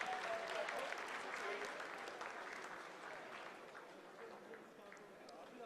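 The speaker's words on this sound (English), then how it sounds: "Lot of applause" Applause in mission control during India's moon landing, broad steady clapping from a roomful of people, fairly faint and slowly fading, with voices mixed in.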